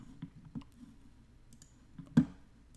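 Mouse clicks at a computer while navigating a 3D model in Fusion 360 CAD software: a handful of soft, sparse clicks close to the mic, with one louder click near the end, no talk.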